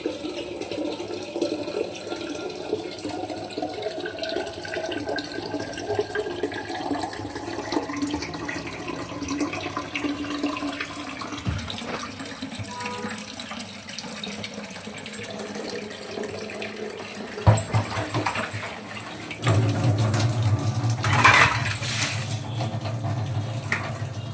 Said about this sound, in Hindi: और यहाँ पर अब भरेंगे पानी।